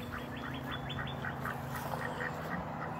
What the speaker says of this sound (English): Even the duck here is kind of breathing hard, which is weird because it's only 85 degrees